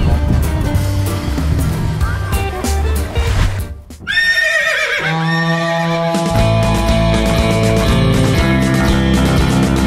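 A horse neighs loudly in a played TikTok video, its whinny rising then falling in a long wavering call midway, with clip-clop and busy background sound around it.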